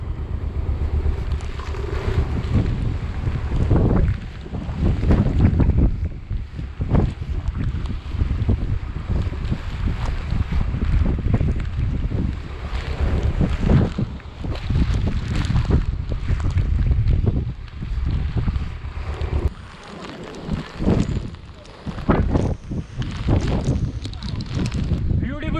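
Strong monsoon wind gusting at a cliff near Malshej Ghat, a steady loud roar and microphone buffeting that rises and falls over the whole stretch, with voices talking beneath it at times.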